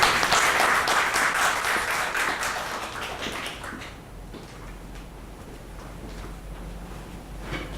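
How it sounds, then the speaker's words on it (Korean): An audience at a seminar claps to welcome a presenter, a dense burst of applause that thins out midway and fades to scattered claps and quiet room noise. "박수로 부탁드립니다."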